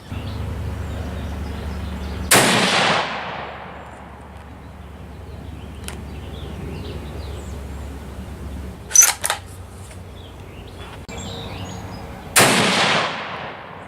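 Three sharp rifle shots from an M1A and a Remington 700 ADL in .243 firing handloaded ammunition, spaced several seconds apart outdoors, each loud crack trailing off in a long decaying echo over a low steady background hum.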